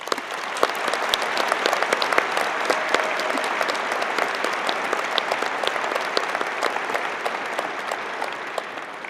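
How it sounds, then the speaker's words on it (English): Raucous applause fills a commencement ceremony for fall baccalaureate and associate degree graduates: dense, steady clapping from a large crowd, loud and sustained throughout without a break. "Please join me in congratulating them with a round of very raucous applause."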